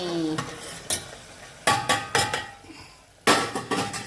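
Mutton sizzling in oil in a pan while a spatula scrapes and knocks against the metal in several sharp bursts, with quieter gaps between.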